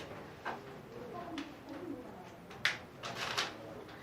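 A dove cooing softly and intermittently at a distance, its low calls separated by brief gaps over a faint background hiss.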